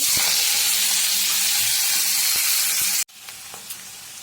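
Hand-crushed onion dropped into hot oil for vermicelli upma, a loud, bright, continuous sizzle lasting about three seconds before abruptly cutting to a quieter, softer frying hiss, with no talking.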